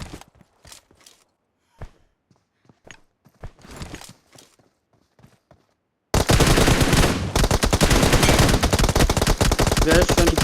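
Gunfire from a shooting video game starts as scattered single shots and bursts among quiet gaps, then turns into a loud continuous stream of rapid automatic fire for the last few seconds.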